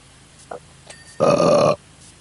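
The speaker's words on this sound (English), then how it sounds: "Pardon me, I burped." A single loud burp of about half a second, set off by a couple of faint short sounds before it, during a PowerWash Simulator gaming session.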